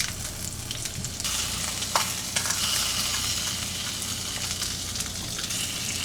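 Garlic fries in a pan in a cramped home kitchen with a loud, continuous sizzle and crackle. A brief clink of stirring comes partway through, and nobody speaks.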